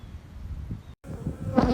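Honeybees buzz in a close, continuous drone that wavers and swells, cutting out for a split second before resuming louder, with no voices present.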